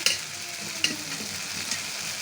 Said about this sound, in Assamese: গৰম পানী দিছোঁ।